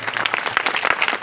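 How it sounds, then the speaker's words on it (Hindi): An audience claps at a marriage anniversary ceremony, a short dense burst of many hands applauding together, close and lively, lasting only a moment. "जोरदार ताली दीजिए सभी लोग।"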